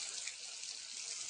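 A tap runs with a steady, faint stream of water, a soft even rush with no voices over it.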